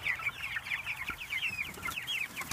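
Chickens cluck and chatter busily in a large chicken tractor, many overlapping close calls forming a steady restless chorus with a faint thump beneath.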